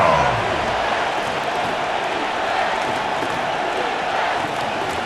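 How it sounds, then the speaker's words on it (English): Stadium crowd in Madden NFL 26 during a Commanders versus Falcons game, a steady loud roar of cheering fans swelling on third down, filling the whole stretch without a break. "This crowd into it now as we get to 3rd down."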